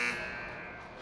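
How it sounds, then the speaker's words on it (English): An end-of-period buzzer sounds in a high school ice hockey arena as one loud, brief blast that fades into the room's echo. "We get the buzzer."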